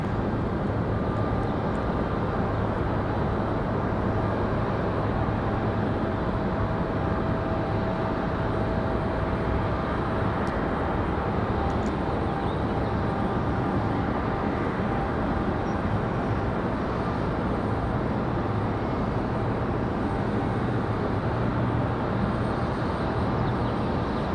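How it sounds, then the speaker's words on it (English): An Endeavor regional airliner landing at Raleigh Durham International Airport, a loud, steady broadband jet roar that holds constant and close throughout, with no pauses. "So we do have that Endeavor 5322 up next for arrival. That one about to touch down already."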